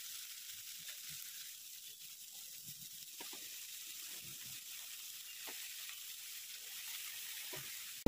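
Dill greens are added to hot oil with garlic, chilli and salt, giving a faint, steady sizzle with soft crackles and light stirring scrapes throughout.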